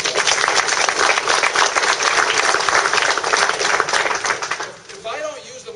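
Loud audience applause at a town hall meeting after the Pledge of Allegiance, dense clapping sustained for about five seconds before dropping away abruptly.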